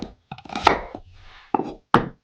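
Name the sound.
chopping onions with a knife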